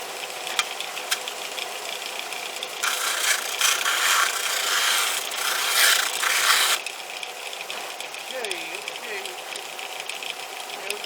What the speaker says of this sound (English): we've got to get rid of this little flange on the edge of this cap. We want the cap to go down inside of the pipe. So what I'm going to do is sand it off.